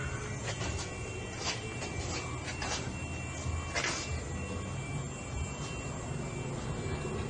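A 2020 Chevy Silverado pickup's exhaust with a single-chamber V-tube muffler rumbles in a steady, low drone, unchanging throughout, with a faint raspy edge.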